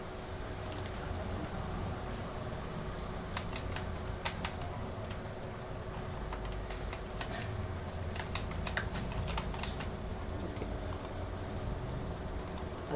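Keys on a computer keyboard are tapped in scattered, light clicks while an online voter ID form is filled in, sitting under a steady background hum.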